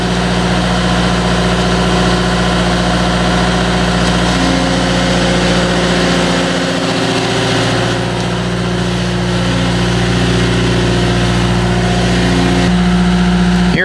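A large radio-controlled Caterpillar 242D skid steer runs its engine continuously nearby, a steady loud hum with a slight dip and shift in tone partway through as the machine starts moving.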